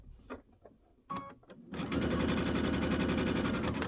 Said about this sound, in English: I set up my foot control to do 1 stitch.